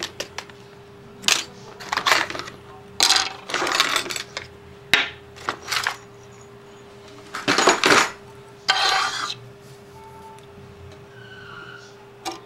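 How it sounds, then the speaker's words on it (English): Metal scissors are pulled out and set down on a fly-tying bench, making a series of sharp, close metallic clinks and taps spaced irregularly over a quiet background. "I should pull my scissors out and throw them up here."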